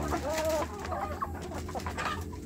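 Kampung chicks feeding together in a rearing pen give soft, repeated clucks and peeps up close, over a low steady hum.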